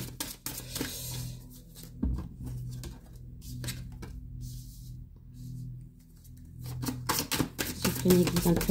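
Tarot cards being shuffled by hand: bursts of quick, crisp riffling and flicking, close, broken by quieter gaps, with a low hum underneath.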